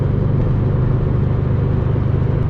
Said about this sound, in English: It is the classic Subaru rumble. Pretty much the sound that comes out of the exhaust.